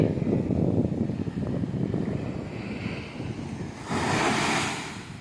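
Rough sea waves roll in at Sanguthurai beach in Kanyakumari, a continuous roar of surf with wind buffeting the microphone and a brighter crashing surge near the end; no one speaks.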